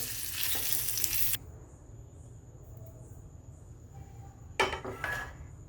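Paneer fries in a pan for a dhaba-style paneer masala: a loud, close sizzle for over a second cuts to a quiet hum, then a second sharp burst of frying and clattering near the end, with no voices.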